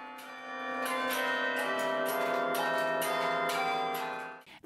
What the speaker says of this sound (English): A baton keyboard activates levers and wires attached to clappers that strike the inside of the bells.